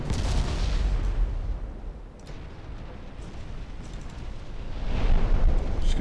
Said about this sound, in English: she's firing some torps